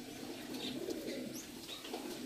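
Teddy pigeons in a loft in Canning give soft, low cooing that runs on gently through the moment, quiet and unaccompanied by speech.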